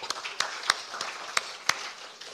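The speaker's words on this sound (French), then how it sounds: "J'aimerais bien qu'on l'applaudisse, s'il vous plaît." Scattered handclaps from a small audience at a conference on entrepreneurship and access to financing, a handful of distinct claps spaced irregularly rather than full applause, moderately close.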